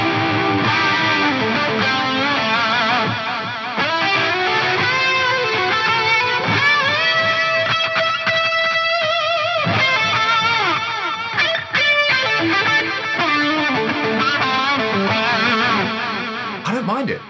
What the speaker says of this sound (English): This is the reverb, ping pong, stereo chorus. This is a big greasy lead sound.